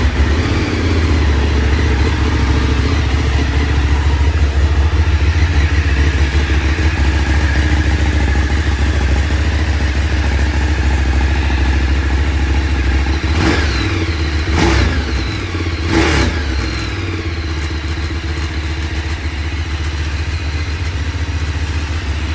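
Ducati Streetfighter 848 motorcycle engine idling with a steady, loud low rumble, then three sharp revs close together near the end before settling back to idle.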